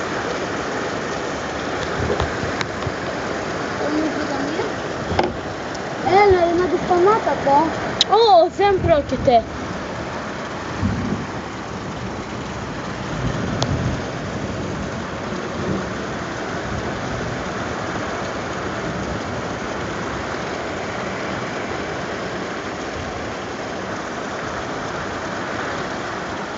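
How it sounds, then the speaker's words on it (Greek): Steady heavy summer rain and hail drumming on a surface, with brief voices and distant thunder rumbles partway through. "Κοίτα πόσο χαλάζει."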